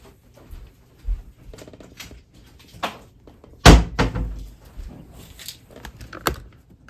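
A toddler rummages in a drawer in a craft room, making scattered knocks, thuds and sliding clunks, with one loud bang near the middle and softer rattles between.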